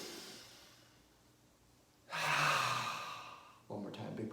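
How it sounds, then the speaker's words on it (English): During yoga breathing, a person lets out a big open-mouth exhale, a soft airy breath rising suddenly and fading, with a quieter breath before it and another starting at the end. "Big open mouth exhale, all right?"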